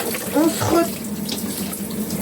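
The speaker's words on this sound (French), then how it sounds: "je rince bien et après, je fais un shampoing" Running water from a tap rinses hair after a home hair colouring, a steady close splashing flow with a brief voice speaking over it at the start.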